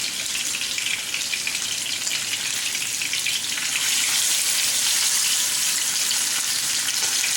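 Sheela fish fries in a pan with a constant bright sizzle and crackle of hot oil that grows slightly louder partway through, with no voices.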